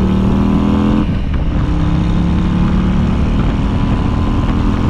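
A 2024 Harley-Davidson Road Glide engine runs close and loud, a steady low rumbling idle with a brief throttle blip around the one-second mark, no talk over it.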